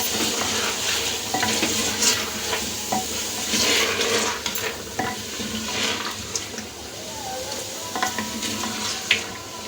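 Mutton kunna with turmeric, coriander and garam masala being stirred in a frying pan, a steady sizzle with repeated scraping and clinking of a spoon against the pot, close and continuous with no talking.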